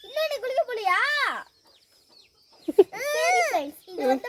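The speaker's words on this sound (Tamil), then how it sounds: "ஆல்ரெடி இதுக்குள்ள 3 வான்கோழி இருக்குங்க." Young turkey poults chirp and peep in a pen, bursts of high, wavering calls in several short runs separated by a brief quiet gap, close and fairly loud with no talking over them.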